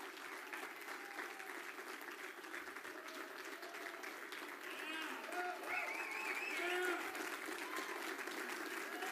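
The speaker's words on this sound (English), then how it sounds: "some of the press was actually clapping" Sustained applause from press members at a Donald Trump event, steady clapping filling the room with voices over it, swelling a little louder toward the end.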